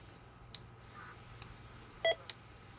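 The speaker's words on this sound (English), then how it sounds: "God, I hate that stupid beep." A single electronic beep sounds on a phone recording, short and tonal, with faint clicks before and after over a quiet line hum.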